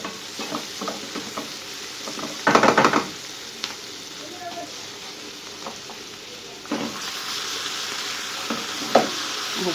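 Chicken hitting a hot pan with onion, pepper and garlic, a steady sizzle with louder bursts of crackling as pieces go in and get moved, faint stirring clinks and some speech.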